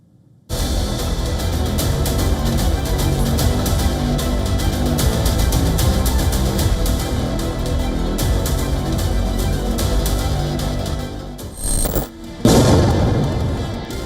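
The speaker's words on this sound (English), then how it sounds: "Thunderous explosions and the scream of missiles and drones are the permanent terror in Ukraine." Missile and drone strikes in Ukraine produce a continuous, loud, rumbling barrage of booms and crackling blasts that fills the whole stretch, with a brief dip and then a sharp renewed burst near the end.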